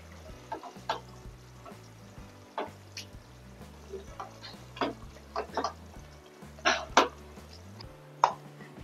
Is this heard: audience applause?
no